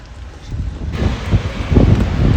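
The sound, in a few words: wind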